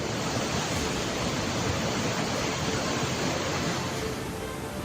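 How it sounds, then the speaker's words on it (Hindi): Floodwater rushes down from the mountains in Uttarakhand and Himachal Pradesh during heavy monsoon rain, a steady, dense roar of churning water that holds loud and unbroken throughout with no voices. "पहाड़ से दौड़ते पानी का अंदाज ऐसा कि देखकर ही रोंगटे खड़े हो जाएं"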